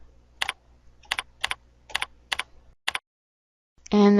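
Short bursts of keystrokes on a computer keyboard come in quick clusters with small gaps between them, close and fairly quiet, before a brief separate tone at the end.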